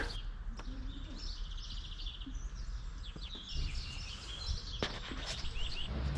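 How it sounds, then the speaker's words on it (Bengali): Small birds chirp and sing along a quiet, secluded walking path toward Mount Pilatus in Switzerland, with bright, varied calls repeating at moderate distance over a soft, still background. "কানে আসছে শুধু পাখিদের মিষ্টি ডাক।"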